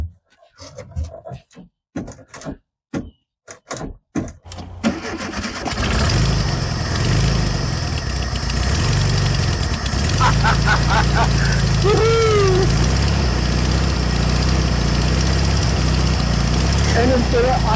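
A 1972 Volkswagen Beetle engine cranks in several short bursts, then catches and settles into a loud, steady idle that runs on. A person talks over the engine.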